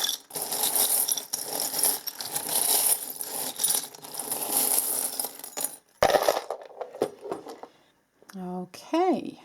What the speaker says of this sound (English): So let us pick some charms for you